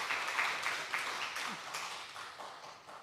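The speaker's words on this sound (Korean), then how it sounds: "이정일 목사님, 저희 교회 11대 담임 목사님 오셨는데 우리 박수로 환영하겠습니다." A church congregation at a 70th anniversary Sunday worship service applauds to welcome a visiting pastor, a soft, steady wash of many hands clapping, distant and faint, with a few louder claps early on.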